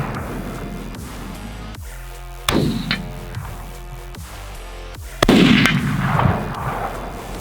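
Two loud close muzzleloader rifle shots ring out at an outdoor range, each a sharp blast with a short echoing tail, the second stronger, over steady background noise.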